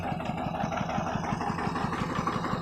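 The small engine of a modified walking tractor chugs in a fast, regular thumping rhythm while plowing, running steadily and close by with no voices.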